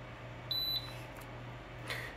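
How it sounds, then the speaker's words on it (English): A single short high-pitched electronic power-on beep from an RKI Instruments GX-6000 gas detector, clear and close, over a steady low hum, followed by a faint second chirp near the end. "Press and hold the power button until you hear the beep."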